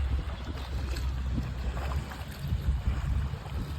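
Low engine rumble of a boat at sea off Masinloc, Zambales, mixed with wind buffeting and water wash, steady and moderately loud throughout.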